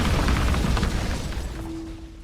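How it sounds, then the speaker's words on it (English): Beast Explosion attack from the video game Monarch Vanguard: a loud, dense, rumbling blast that fills the whole clip and slowly thins out, ending with a steady low hum. "Okay, here's Beast Explosion."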